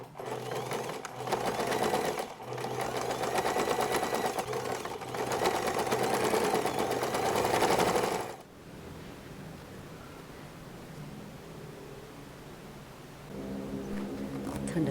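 A sewing machine stitches a fabric pouch seam in a loud, steady whirring run with a few brief pauses, then stops, and a softer mechanical hum continues near the end.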